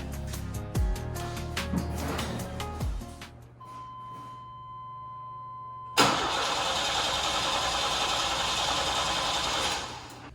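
A 1955 Ford F100 truck engine on a lifted 4x4 rat rod build, with hot-wired starting trouble, catches after some clatter and a whine, then settles into a loud, steady running roar up close before cutting off near the end.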